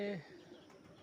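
A single short coo from a desi pigeon sounds at the very start, then fades into quiet, low background noise.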